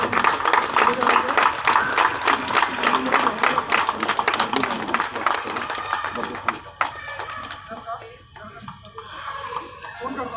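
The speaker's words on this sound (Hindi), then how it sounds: "उतने बार आप लोग तालियां बजाएंगे" An audience claps in welcome for an arriving guest at a community education gathering, rhythmic, fairly steady clapping that continues for several seconds before thinning out toward the end.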